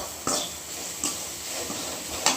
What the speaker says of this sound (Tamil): இப்போ மசாலாவை போட்டு நல்லா வதக்கி விட்டுருங்க